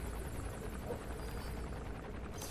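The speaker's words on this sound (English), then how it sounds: "That's an enemy gunship." An enemy gunship helicopter in the video game Metal Gear Solid V: The Phantom Pain, producing a steady, fairly faint rotor throb and engine drone with no voices over it.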